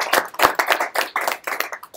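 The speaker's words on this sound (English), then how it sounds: "Well, let's give you a round of applause first." A small audience at a capstone project presentation gives a round of applause, a sparse patter of distinct hand claps with an uneven rhythm, fairly close and moderately loud.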